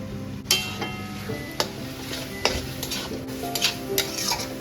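Meat for dum biryani is stirred with salt, chilli, coriander, cumin and turmeric powders, with spoon scrapes and knocks against the pot over a low, continuous sizzle.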